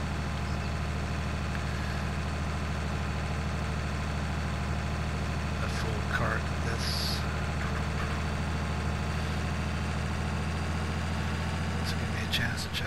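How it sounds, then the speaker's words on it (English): A tractor engine pulling in a farming video game, a steady loud low drone held throughout with little change in pitch, with faint talk near the middle. "I just hope this tractor can pull."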